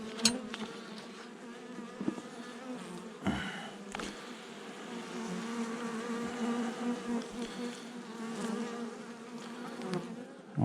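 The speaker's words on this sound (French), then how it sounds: "Pour l'instant, toujours les vieilles abeilles." Honey bees buzz densely and continuously close by at the hive, a layered droning hum with a few louder individual bees passing near, no speech.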